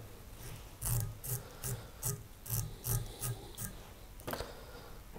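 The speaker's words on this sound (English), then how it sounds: "get my Velcro, just watch your thread. I'm just going to brush back the dubbin" Velcro brushed back over dubbing on a claret shuttlecock hopper dry fly at the tying vise, giving a run of soft, quick raspy strokes in a steady rhythm, close and fairly quiet, with no talking.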